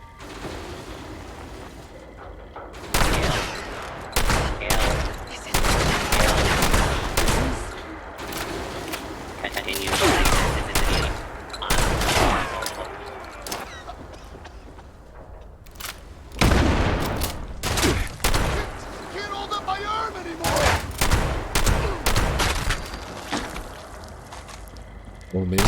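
Bursts of rapid gunfire in Fallout 76 during a solo expedition in The Pitt, loud volleys coming in clusters separated by quieter stretches.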